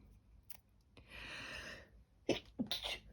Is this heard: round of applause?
no